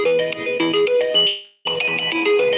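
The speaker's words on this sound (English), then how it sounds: "And my phone is ringing." Phone ringtone playing a bright, repeating melodic electronic pattern, loud and close, breaking off briefly before the tune starts again.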